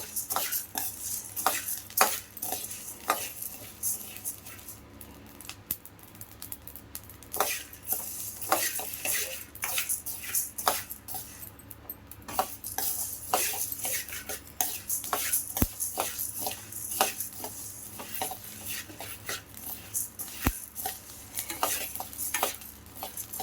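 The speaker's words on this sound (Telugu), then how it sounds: "ఇలా వేయించుకోవాలి." Sambar powder spices dry-roasting in a pan, with a rapid, steady run of scraping and clinking stirs against the metal over a faint crackle, close by.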